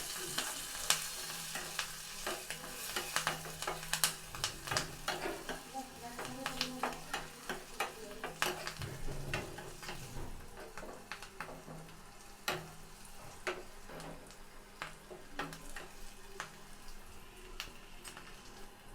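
Spices and Kashmiri chili powder sizzle and crackle in oil with sharp pops while a spoon stirs and scrapes the pan for a tempering, moderately close and continuous.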